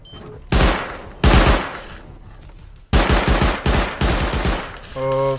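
Automated turrets fire in loud, rapid bursts during a raid in Rust on console, with several separate volleys of dense gunfire broken by short pauses and a final steady mechanical tone.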